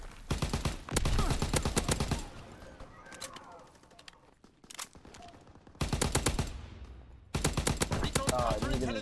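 Rapid bursts of FG42 automatic rifle fire in Call of Duty: World War 2, loud and near, in several long volleys separated by quieter gaps with scattered distant shots and faint game noise.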